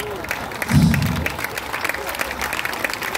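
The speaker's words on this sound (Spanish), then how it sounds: "Sí, yo creo que aplaudís de los puros nervios." An audience claps at a live outdoor concert in a city park, a burst of applause that swells quickly, then thins into scattered claps beneath a speaking voice.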